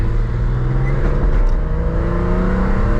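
A BMW engine hums steadily with a slight rise in revs, continuous and fairly close, no voices.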